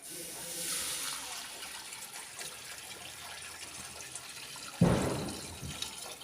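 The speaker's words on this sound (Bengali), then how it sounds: "এবার পানি দিয়ে দেবো" Water pours into a pot of fried biryani rice with a sudden loud splash near the end, following a softer running-water wash earlier, heard without talk.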